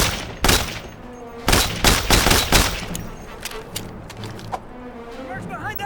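Gunfire in the video game Mercenaries 2: World in Flames: several loud bursts of broadband shots in clusters, with rapid volleys between about 0.5 and 2.7 seconds, then scattered quieter shots under shouted battle voices.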